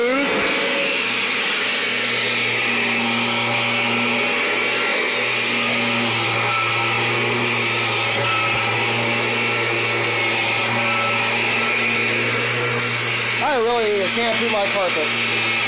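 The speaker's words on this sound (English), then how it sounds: "Shampoo my carpet." Kirby vacuum cleaner shampooing a carpet, a steady loud motor drone with a low hum running throughout, nearly constant in level, with a brief whining pitch sweep near the end.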